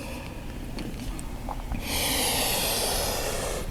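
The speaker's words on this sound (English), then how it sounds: "Taking complete breaths in and complete breaths out." A person breathes deeply during yoga practice, a soft breath in followed by a long, loud, airy exhale that rushes close to the microphone and holds steady for nearly two seconds, with no talking.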